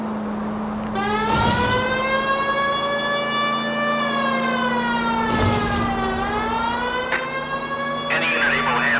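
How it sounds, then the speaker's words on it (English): Police car siren in the video game L.A. Noire, a wailing tone that rises and falls in long sweeps over a steady engine hum, continuous and close for the whole stretch. "Why don't you use the siren?"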